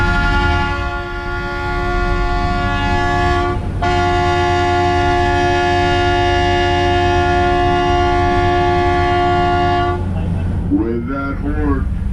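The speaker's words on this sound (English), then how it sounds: "With that horn, we just reached our max speed of 5 miles an hour." The Mount Washington Cog Railway train sounds its horn in one long, steady, loud blast, cut by a short break, over the continuous rumble of the climbing train, followed by a voice at the end.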